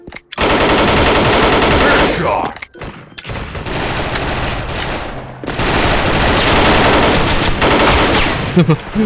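AUG A3 Gen 2 airsoft gun firing long rapid full-auto bursts, loud and close, with brief pauses between strings of shots.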